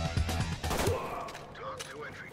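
Kriss Vector submachine gun firing in the Ready or Not video game, a dense rapid burst of shots in the first second, followed by quieter game ambience and faint background tones.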